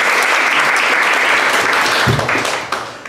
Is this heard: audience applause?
yes